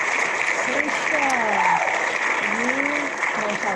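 Canned applause sound effect plays from a spinning wheel app during an online meetup, a steady wash of clapping with a few short sliding tones over it.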